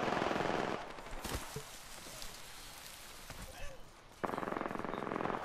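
Rapid automatic gunfire bursts from the video game Apex Legends open and close the moment, loud and close, with quieter in-game sounds and faint talk between them.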